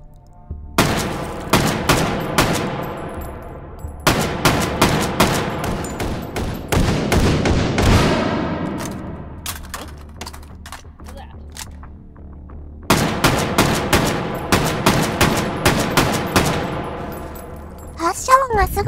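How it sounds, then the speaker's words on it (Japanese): Rifle fire from 7.62 mm tracer rounds in the VR shooting game H3VR: bursts of sharp, loud gunshots in quick rhythmic strings, with a short pause and a ringing boom between volleys, close and dominant. "発射音がすごくて威力の高さがよくわかるね。"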